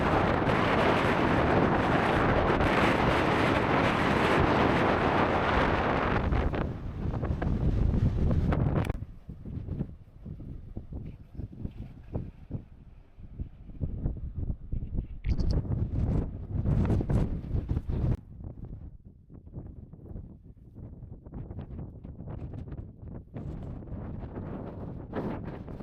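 Strong wind buffets the microphone on the open hilltop of High Wheeldon in the Peak District, a loud, dense roar for the first nine seconds that then drops into gustier, uneven bursts of rumble and buffeting.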